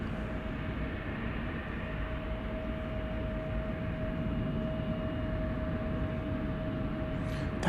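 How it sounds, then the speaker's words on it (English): FedEx MD-11 cargo jet taxiing at an airport, a steady distant engine roar with a thin constant whine, heard from afar with no talk. "That's the MD-11, the FedEx MD-11 we saw come in over here."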